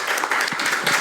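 Applause from an audience at a public policy forum, a steady burst of clapping sustained for about a second without any talk.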